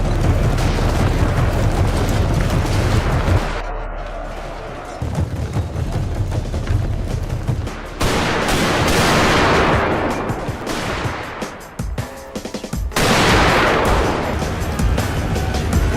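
Gatling guns and rifle volleys fire in a Total War battle between British infantry and Zulu warriors, a loud dense barrage of rapid gunshots and booms that runs almost without a break.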